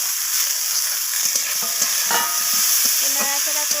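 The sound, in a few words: sautéing spices with eggplant, green chilies and coriander, stirring in pan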